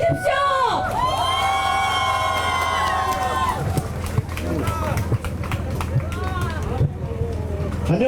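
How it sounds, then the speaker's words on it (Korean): A large rally crowd cheers and shouts loudly, with scattered clapping, at Lee Jun-seok's presidential election campaign event at Yeungnam University in Gyeongsan. Excited voices and whoops hold steady throughout, close and dense. "큰 박수와 함성 다시 한번 주십시오."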